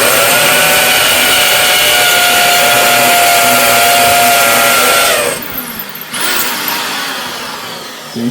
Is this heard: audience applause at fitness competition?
no